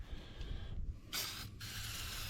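A short spray of WD-40 aerosol lubricant hisses in two bursts onto hay baler chains, the second longer and steady, close by with a low background rumble.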